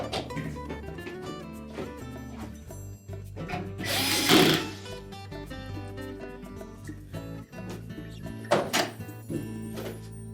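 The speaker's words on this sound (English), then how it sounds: "we'll secure it with the single screw in the center" Power driver running a single screw into the rear cover of a GE refrigerator: a close whirring drill burst with a thunk near the middle, then a second shorter burst, over a steady low hum.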